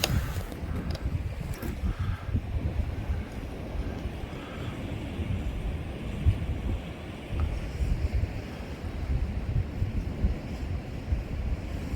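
Wind-driven waves rolling onto the rocky Lake Superior shore near Duluth, heard as a steady, dense rumble of surf and gusting wind buffeting the microphone throughout, with no break or clear individual breakers standing out.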